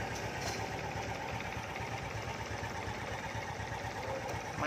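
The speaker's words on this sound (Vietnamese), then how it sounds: "Máy nổ là không nghe tiếng luôn á, thì thầm nữa anh em." A used Honda Wave or Dream-style motorcycle engine idling very quietly nearby, a soft, even, fast-ticking putter that runs steadily throughout without talk.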